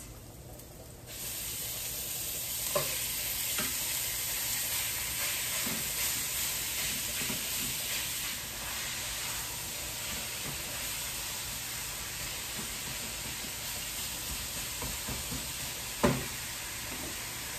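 Seasoned meat sizzles in avocado oil in a pan, a steady close frying hiss running throughout with a few faint clicks and pops.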